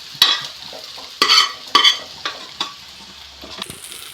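Leftover rice being fried with tempering in a pan, with several sharp spatula scrapes and clacks over a low, steady sizzle, close and fairly loud.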